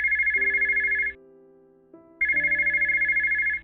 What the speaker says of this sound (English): suddenly I hear the phone ring